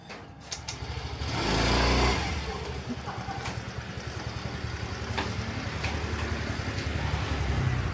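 Scooters pass along a busy Bangkok street, their small engines buzzing and swelling as one draws near and fades, over a continuous hum of traffic, with occasional sharp clicks.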